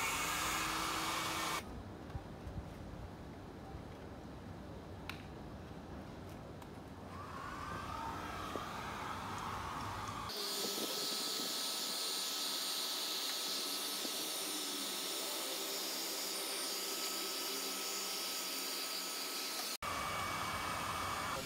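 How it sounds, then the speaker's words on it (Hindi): A heat gun blows a steady, loud hot-air roar while lamination film is stripped from a Royal Enfield Bullet motorcycle, the whine changing in pitch partway through and then cutting off near the end. "ये हमारी हीट गन है, हीट गन से ज़्यादा अच्छी है।"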